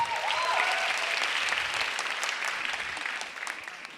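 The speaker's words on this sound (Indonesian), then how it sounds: "Tepuk tangan yang meriah untuk Gilang Baskara" An audience applauds for comedian Gilang Baskara at a stand-up comedy competition show, a loud dense burst of clapping that slowly thins and fades over a few seconds.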